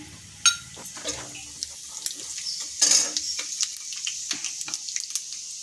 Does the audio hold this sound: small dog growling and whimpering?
no